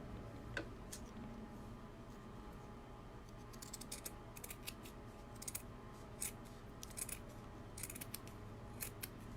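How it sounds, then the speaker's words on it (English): Scissors make quiet, close snips and crisp cuts in an irregular series as they trim the seam fabric of a child's donut-shaped pillow, with no talking. "I'm going to trim this a little bit just to help me turn it, or to help it lay flatter when I turn it"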